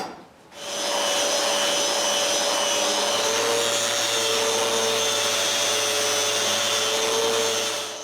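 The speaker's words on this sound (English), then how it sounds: "Since I have the sander in my hands, I also sand this excess glue." A power sander runs continuously on a wooden bookcase, grinding down excess dowel and dried glue, a loud steady whine with a high tonal hum, starting abruptly after a brief quiet moment.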